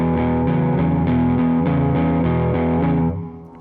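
A distorted electric guitar is strummed without palm muting, so the chords ring out sustained and loud in a steady repeated rhythm before fading at the end.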